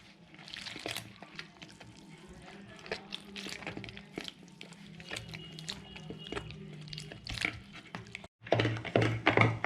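Water is mixed into cornflour and maida by hand for a veg Manchurian batter, making close, wet squishing and slapping sounds in an uneven rhythm that grows louder near the end.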